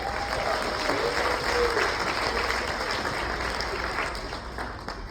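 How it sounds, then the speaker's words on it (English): Sustained, full applause from a crowd at a musical murder-mystery show aboard a cruise ship, dense steady clapping that tapers slightly at the end, with faint voices underneath. "So give him a big round of applause."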